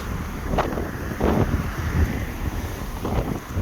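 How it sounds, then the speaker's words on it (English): Gusty wind buffets the microphone, a constant rushing roar with low rumbling surges and no voices. "Oh, it's quite windy, it's quite nice."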